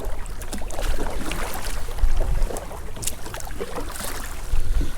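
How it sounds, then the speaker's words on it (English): Bonafide SS107 kayak paddled into a headwind on open water, with steady wind rush and water splashing and sloshing close by, paddle strokes surging about every two seconds. "I'm paddling against the wind"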